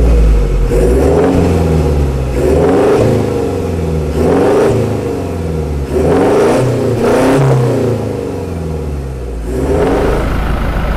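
A 2021 Toyota Hilux fitted with an aftermarket catback muffler revs repeatedly, its engine surging and falling in a series of loud, close throttle blips, with a deep exhaust rumble between bursts.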